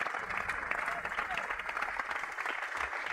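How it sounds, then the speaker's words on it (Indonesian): A studio audience at an Indonesian TV show claps for a phone-in caller, with steady applause running under the host's voice throughout. "Ya, tepuk tangan dulu dong buat penelpon."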